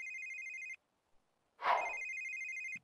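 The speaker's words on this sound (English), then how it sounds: "Answer the phone." A telephone rings in The Sims 3 life simulation game: a loud electronic two-tone ring that stops, a short break with a brief game sound effect, then the ring resumes, alone without talk.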